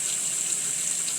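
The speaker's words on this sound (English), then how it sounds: "I rinse with warm water." Warm tap water runs steadily from a faucet while a face is rinsed to wash off cleanser bubbles, a continuous hissing flow heard up close with no talking.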